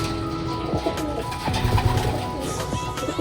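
Pigeons coo steadily inside a breeding loft full of young birds, with several soft overlapping coos up close and a bit of faint movement behind them.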